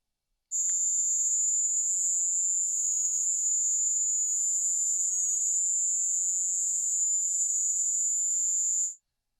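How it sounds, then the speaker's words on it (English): A dense, continuous high-pitched trill of crickets chirping, steady and unbroken, starting abruptly and stopping abruptly. "That was the sound of crickets."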